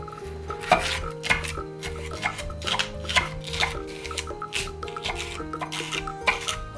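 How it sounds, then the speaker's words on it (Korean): Knife chopping bell pepper on a cutting board for a shrimp and vegetable stir-fry, with crisp, steady cuts in a quick regular rhythm over soft kitchen background music. "피망 한 개도 반으로 잘라 길게 잘라주세요."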